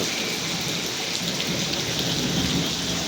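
Steady, dense monsoon rain hisses continuously at close range at night, a broad unbroken wash of sound with a faint low rumble of thunder beneath it.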